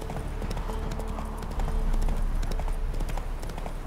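Roach, a horse in The Witcher 3 game, clip-clops along in a steady rhythm of hoofbeats, close and fairly loud over a low ambient rumble.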